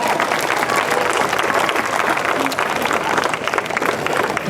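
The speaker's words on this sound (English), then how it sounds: "definitely clap it up for the moms" Loud, dense applause from a large event audience clapping for the moms, with scattered cheers and crowd voices mixed into the steady clapping.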